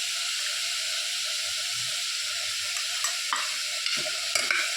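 Chopped vegetables, tomato and turmeric sauté in a hot pan for wheat rava khichdi, giving a steady close sizzle that runs without a break while a spoon stirs and scrapes through the mix in a few sharper strokes near the end.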